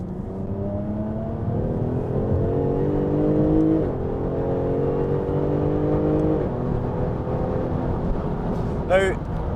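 A Jaguar F-Type V6S with a 380 bhp engine drones steadily through its exhaust from inside the car, a loud, harmonic hum that shifts pitch slightly as the car changes pace.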